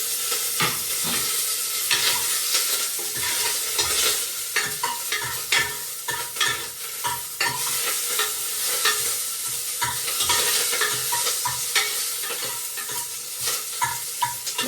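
Curry leaves frying in hot oil in a pan for a home-cooked country chicken curry, a steady crackling sizzle broken by repeated scraping stirs of a spoon against the pan, close up and fairly loud with no voices.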